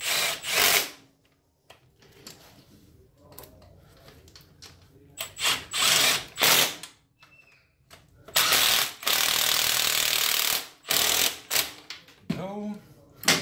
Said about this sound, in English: Tighten these bolts.